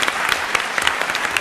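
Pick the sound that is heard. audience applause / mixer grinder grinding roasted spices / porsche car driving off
audience applause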